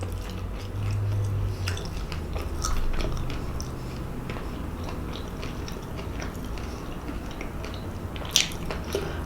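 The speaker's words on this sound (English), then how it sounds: "this chicken is so crunchy" Crisp crunching bites of fried food, repeated close-up chewing and crackling with a sharper crunch near the end.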